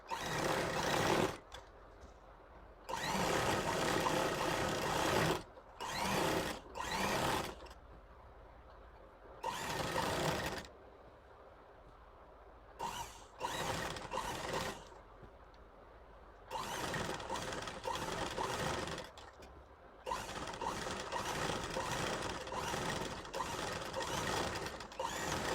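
An electric sewing machine stitching a seam on men's pajamas, running in loud bursts of steady whirring separated by short pauses, close up with no talk.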